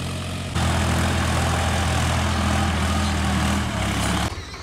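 A Solis 5015 tractor engine runs close by, a loud, steady low diesel drone that swells in after a moment and drops off near the end, with no talking.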